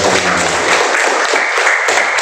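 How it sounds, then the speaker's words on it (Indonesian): A crowd claps loudly at a school send-off ceremony, dense continuous applause filling the whole two seconds with no pauses. "Tepuk tangan untuk eskalator"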